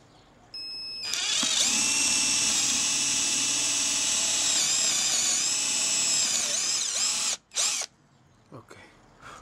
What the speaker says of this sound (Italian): Effettuato il foro con la puntata 10